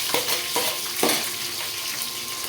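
Onions hitting hot oil in a pan for pepper chicken, a steady close sizzle with a few sharper bursts of frying and stirring, no voices.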